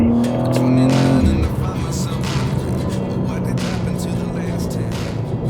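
BMW M2 driving on the road, a loud engine note rising then settling into steady road and tire roar, with some talk mixed in.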